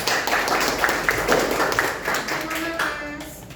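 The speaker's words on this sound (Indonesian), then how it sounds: "Oke, kasih tepuk tangan dulu." Clapping from an audience after a school debate between two teams, a brief scattered round of hand claps that fades out within a few seconds.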